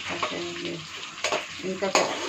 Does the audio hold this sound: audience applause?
no